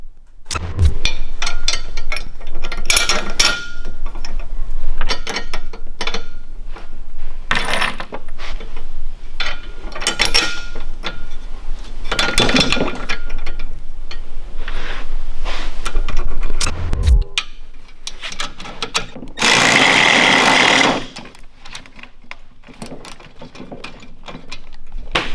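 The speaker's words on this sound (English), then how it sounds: "you're actually going to bolt on to the bottom side" Metal rack attachment pieces being bolted to the underside of a rack inside an enclosed trailer, with loud clanking, ratcheting and metallic handling sounds in bursts up close, a hissy noise near the end.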